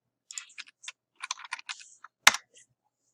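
A folder name being typed on a computer keyboard: a quick, irregular run of crisp, close key clicks with short pauses, ending on one sharper, louder keystroke, in otherwise quiet surroundings.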